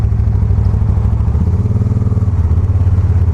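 Can-Am Spyder RS-S three-wheel motorcycle engine running steadily while riding, loud and close with a low pulsing throb throughout.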